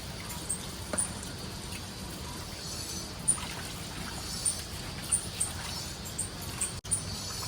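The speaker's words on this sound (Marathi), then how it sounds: "आता यांना पहिला वॉश केलं जाईल नंतर पॅकिंग करून दिलं" Water pouring and trickling while fresh prawns are washed by a fish seller, a steady low wash with intermittent small splashes and clinks, no talk.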